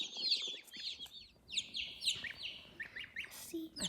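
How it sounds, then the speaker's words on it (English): Baby goose (gosling) on a farm in spring peeping in rapid high chirps, close and continuous, with soft background noise and possible faint voices. "Ryan Gosling, our little baby goose"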